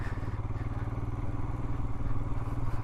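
Motorcycles pass on a steep mountain road in Himachal Pradesh, producing a loud, continuous low engine drone with rapid rhythmic pulsing, close by and with no talk over it.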